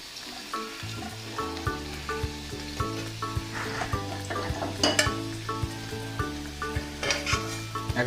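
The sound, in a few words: frying potatoes in oil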